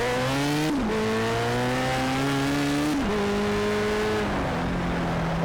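BAC Mono racing car in Project Cars at the Nürburgring, its engine revving loud and close through steady high notes, with two sharp drops as gears shift, running continuously with no talk.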